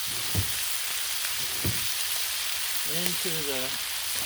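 Thick cut bacon crackles on a Blackstone griddle in a steady close hiss, with two dull knocks near the start and a brief tonal squeak toward the end, no talking.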